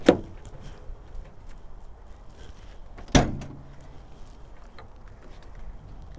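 The back doors of a 2022 Roadtrek Play SRT B-class camper van open with two sharp metallic clunks about three seconds apart, each latch release ringing briefly over a quiet outdoor hush.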